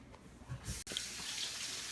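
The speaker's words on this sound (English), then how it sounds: "let me just rinse off my hands real quick." Kitchen faucet running as hands are rinsed off during meatloaf preparation, a steady close hiss of water splashing into the sink with a short click partway through.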